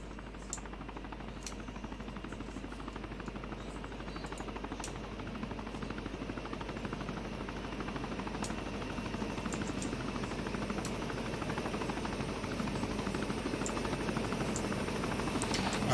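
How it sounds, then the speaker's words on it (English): A helicopter arrives in a tactical military video game: a steady, rapid rotor thumping that grows gradually louder, with no talk over it. "Friendly helo inbound"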